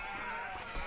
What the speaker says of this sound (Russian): Прямо овец и этих пастухов, да?